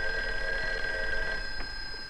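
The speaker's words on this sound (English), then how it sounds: "Hey, that's your phone, Uncle Bill." A telephone bell rings in one sustained, steady trill that cuts off partway through, fairly loud against a quiet room with no one speaking.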